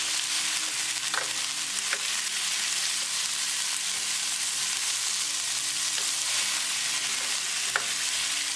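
Frozen Baja roasted rice blend fries with translucent onions in a pan, giving a soft, even sizzle with a few light clicks of a utensil stirring.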